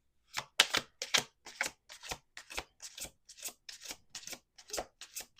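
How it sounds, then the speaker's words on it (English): Cards are riffled and shuffled repeatedly in quick, crisp bursts, close up and alone, in a steady rhythm of about a dozen strokes. "Let's do two more shuffles."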